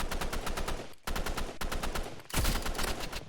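Rapid automatic gunfire from the Roblox shooter Rivals, loud and close: dense bursts of rattling shots with a brief pause near one second, then a heavier blast-like burst, with no talking.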